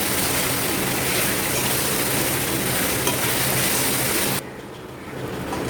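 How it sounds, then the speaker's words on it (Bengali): Chicken being stirred in a pan over a high flame, a steady dense sizzle with scraping that runs loudly throughout, then drops off sharply near the end as the heat or stirring eases. "আর ভালো করে 5 থেকে 6 মিনিট আপনাকে এরকম করে নাড়িয়ে যেতে হবে।"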